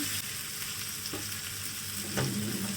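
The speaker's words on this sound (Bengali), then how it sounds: "এই রকমভাবে কয়েকবার ঢাকনা চাপা দিয়ে কষিয়ে নিতে হবে" Chicken boti masala fries in a pan in a brief, dense close-up sizzle, with a soft stirring scrape near the end and no speech.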